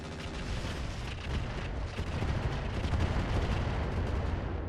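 An artillery barrage in the mech strategy game RogueTech, with dense, overlapping booms and rumbling blasts forming a continuous, heavy roar for several seconds.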